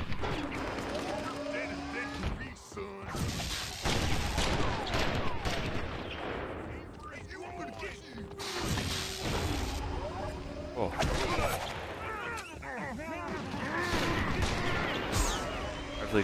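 Turret gunfire in Oddworld: Stranger's Wrath: repeated bursts of rapid mechanical shots and impacts with brief pauses between volleys, mixed with game effects at moderate level and no spoken words.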